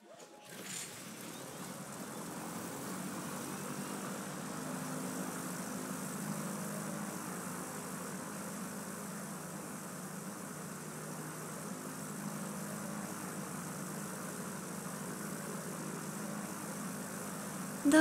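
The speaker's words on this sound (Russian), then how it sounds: "Это звуки самолета." A steady airplane engine drone in the video game Kentucky Route Zero holds at an even level for the whole stretch, distant-sounding and without talk.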